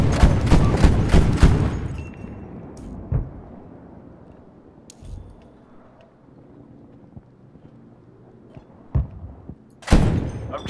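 Gunfire bursts in Battlefield V, a loud rapid volley at the start, then scattered single shots and distant reports over wind-like ambience, with another sharp burst near the end.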